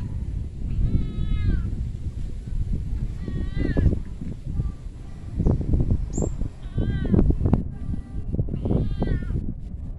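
Cat meowing repeatedly near a fishing spot, four or five clear, drawn-out meows spaced a couple of seconds apart over rustling and handling noise.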